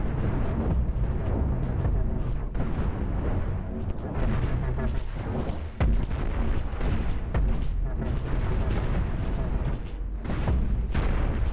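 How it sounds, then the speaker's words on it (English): Missile volleys launch from a spaceship in the space combat game Cosmoteer, a dense stream of booming blasts and bursts layered over continuous battle noise, loud and sustained throughout. "Missiles are away."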